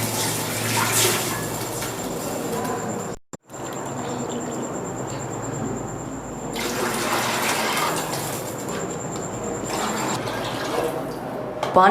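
Water is poured into a cooking pot of heated oil while making sweet jaggery rice, a steady close splashing flow that runs for about twelve seconds with one brief break.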